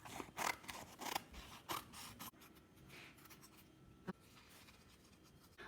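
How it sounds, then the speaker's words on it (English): Scissors snip through paper-backed fabric, cutting out appliqué shapes in a run of close, crisp cuts, then slower quieter trimming with one sharp snip near the end; no talking. "now I just need to cut out the shapes that I've previously drawn onto the back of the sheets of paper"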